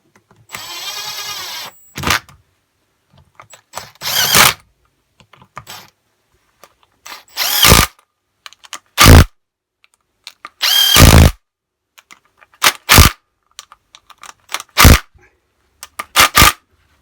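Power drill running bolts back into a Honda HRD536 Pro lawn mower during repair of its seized roller system: a series of short, loud whirring bursts separated by pauses, close by and with no talking.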